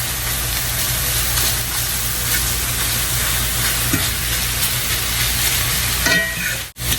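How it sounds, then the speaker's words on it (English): Sausage crackling loudly in a pan while being broken apart, a continuous close hiss of frying with occasional scraping thuds from the utensil and a sharp knock near the end. "Continue breaking up your sausage."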